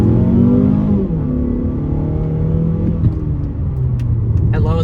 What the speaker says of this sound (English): the acceleration with this G25 engine